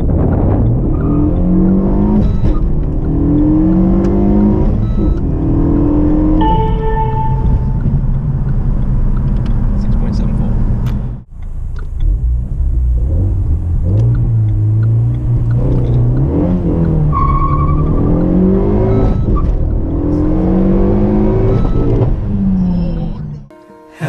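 Renault Megane RS250 with a Stage 1 remap accelerating hard on a test run, engine revving up repeatedly through the gears with rising and falling pitch, loud and close from inside the car.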